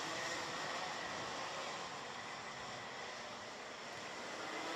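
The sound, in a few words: racing karts engines through turns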